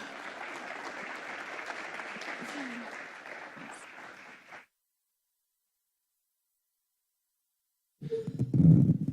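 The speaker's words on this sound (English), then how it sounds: "another noisy and hard round of applause for our speakers" A conference audience applauds its speakers, a few seconds of sustained crowd clapping that then stops. After a silent gap, close muffled handling noise follows.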